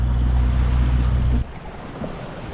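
Wind and waves at sea aboard a sailboat, a loud, steady rush of wind noise and surf that cuts off partway through, leaving quieter water sloshing and swirling around the hull in the open Atlantic Ocean.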